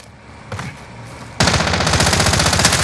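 Rapid automatic gunfire in a first-person shooter bursts in loud and close after a quieter stretch with a single earlier shot, rattling on continuously to the end.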